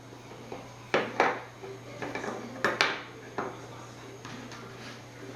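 Ground meat being mixed with oregano and sea salt in a kitchen bowl, heard as a handful of close, irregular knocks and scrapes of utensil against dish, scattered through quiet background hum.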